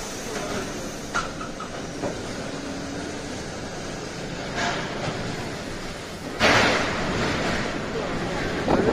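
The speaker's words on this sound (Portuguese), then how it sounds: "Olha a tempestade que tá, o vento." Strong storm wind gusting at Maringá airport in Paraná, a loud continuous roar with a sharp surge about two-thirds through, and a person talking briefly beneath it.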